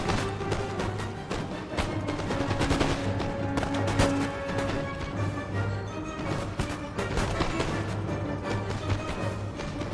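Musket volleys crackle in the Empire: Total War video game, dense overlapping gunshots popping near and far in ragged bursts over a low droning game score, no voices.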